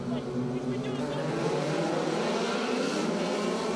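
Several race cars roar together at a short-track qualifying heat, a dense, continuous engine drone held steady and loud throughout, with a public-address voice talking over it.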